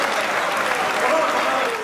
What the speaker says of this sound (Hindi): बहुत जोरदार तालियां बजाकर केसरदेव मारवाड़ी को आमंत्रित करिए।